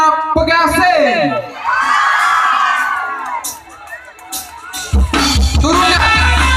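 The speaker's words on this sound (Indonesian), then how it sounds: "beri tepuk tangan pada suaranya lebih kencang lagi Nadia." A live audience at a stage singing event in Indonesia shouts, whoops and cheers loudly, with children's voices among the crowd noise and a burst of clapping near the end, while people talk over it.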